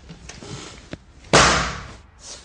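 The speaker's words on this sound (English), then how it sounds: "They all make a pretty satisfying bang." A book slammed shut with a single sharp, loud bang, standing out clearly from a quieter background and followed by a brief decaying tail.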